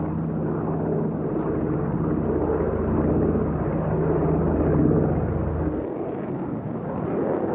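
A Douglas C-47 Dakota propeller aircraft drones overhead, flying low and slow, with a steady loud engine hum and throbbing tones that fade slightly near the end.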